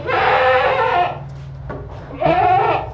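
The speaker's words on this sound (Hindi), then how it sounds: "नई जगह पे आया, नई जगह पे, इसलिए थोड़ा शोर कर रहा है।" A newly arrived sacrificial goat, hungry after travel and unsettled in a new place, bleats loudly and close by, two long bleats separated by a short pause.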